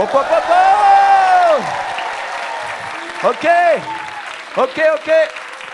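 Loud applause from a crowd at a closing ceremony fills the clip while a voice calls out over it in French in drawn-out, excited shouts.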